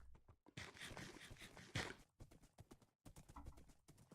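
Rhythmic hoof clip-clops from a horse in Minecraft, steady and fairly close, broken by a couple of brief pauses.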